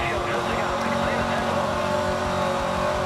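Bugatti racing in Need for Speed Most Wanted, a continuous high engine roar at speed with fluctuating revs, loud and steady, with someone talking over it at times.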